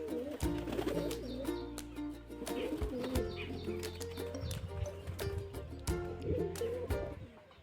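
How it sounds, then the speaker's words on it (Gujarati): Pigeons coo in soft, repeated low calls nearby, mixed with light chirps and a few sharp clicks and wing flaps, at a fairly quiet level. "તો જોઈએ આપણે કબૂતર ખોલ્યા હતા"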